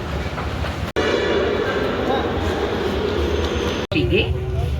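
Steady, loud rumble of a metro train in motion, with a recorded Kannada announcement about the platform gap over it and two brief dropouts in the sound.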